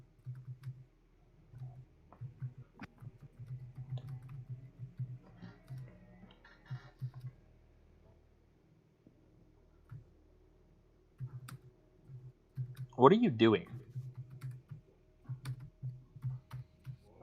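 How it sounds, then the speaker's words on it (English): Light, sparse clicking from a computer keyboard plays faintly over a low steady hum, and partway through a person briefly speaks. "Typing."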